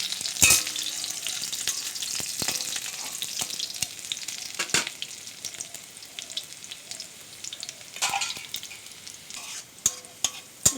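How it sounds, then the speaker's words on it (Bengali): Chopped garlic sizzles and fries in a pan for jute-leaf and prawn cooking, a steady close crackle broken by sharp stirring clatters of a utensil against the pan. "এবার রসুন কুচি দিয়ে দেবো"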